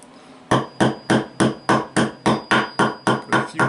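Metal nut being hammered into a drilled hole while building a cheap camera stabilizer: about eleven sharp, evenly spaced taps, close and loud, with no talking.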